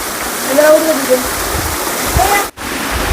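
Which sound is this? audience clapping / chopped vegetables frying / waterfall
waterfall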